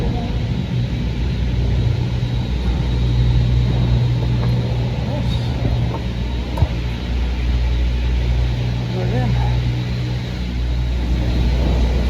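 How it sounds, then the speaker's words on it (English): A cable car climbs toward Ellmau in Austria, giving a continuous low mechanical rumble and hum with occasional faint clicks and creaks riding over the steady drone. "First cable car of the trip, up to Ellmau."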